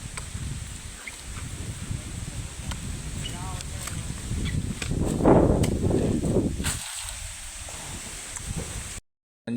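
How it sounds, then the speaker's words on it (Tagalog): Strong wind gusts among coconut trees during a harvest, a constant low buffeting rush against the microphone that builds to a stronger blast midway, with people talking under it. "Sobrang hangin."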